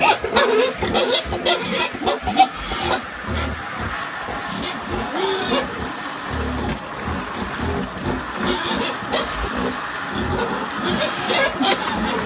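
Pigs raised on a small farm grunt and oink in irregular bursts among background farm noise, with occasional clatter, fairly close throughout.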